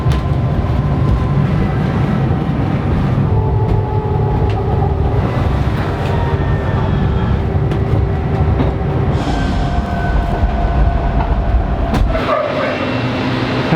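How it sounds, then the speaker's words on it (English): Heathrow Terminal 5 automated pod vehicle driving along its track, a steady loud rumbling hum with continuous road-like noise from start to finish and a brief dip near the end. "this pod will now drive us all the way into Terminal 5"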